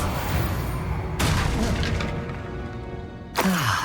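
Spell effects from Hogwarts Legacy: a loud magical blast of booming, crashing bursts, a sharp onset around a second in, then a fresh bright burst with a falling sweep near the end, all thick and close.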